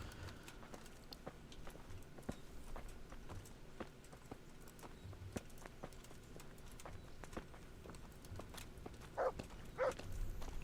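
Horse hooves clip-clopping at a steady walking rhythm in Kingdom Come Deliverance, a run of distinct close knocks over quiet outdoor ambience.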